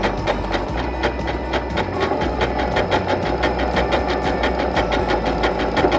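A sewing machine stitches a blind hem for knit fabric, its needle pounding in a fast, steady mechanical rhythm with a constant motor hum, close and loud, with no voices.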